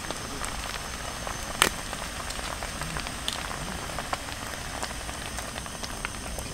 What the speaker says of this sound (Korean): 화이트 와인을 조금만 넣어서 전부를 볶을게.